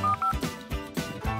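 Telephone dialing tones sound as a few short electronic beeps at the start, followed by rhythmic thumping bursts as the call is placed.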